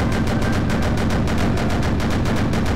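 Quad-barrel Type 96 25mm anti-aircraft machine gun test-firing in Sprocket, a tank-design game: a loud, steady rapid burst of evenly spaced shots running continuously without pause.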